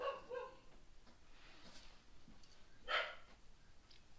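Faint, distant dog barks: a couple at the start and another a few seconds later, over quiet outdoor background noise.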